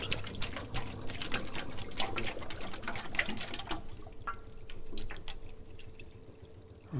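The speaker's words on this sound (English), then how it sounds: "The pump is set to clear the basement of water." In a video game, a fuel-powered pump clears a flooded basement, giving off a steady watery gush and trickle with fine splashy texture over a low mechanical hum that thins out partway through.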